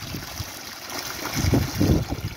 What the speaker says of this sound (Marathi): इथं जर बघितलं तर फुल भरून चाललेला पाईप आहे